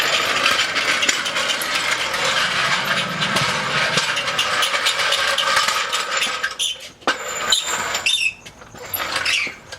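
A car jack being worked on a Mazda Miata, a dense, steady mechanical ratcheting that runs continuously, then breaks into scattered clicks and clanks near the end.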